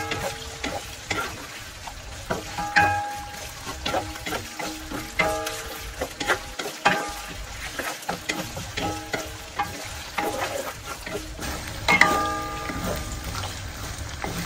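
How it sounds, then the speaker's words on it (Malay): Shrimp sizzling and crackling in hot oil for Malaysian sambal udang, with frequent stirring scrapes and clinks of a utensil against the pan. "Kita goreng dulu kita sedikit."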